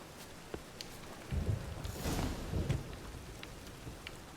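Steady rain with a low rumble of thunder swelling in the middle during a storm in The Witcher 3, fairly faint and with no voices.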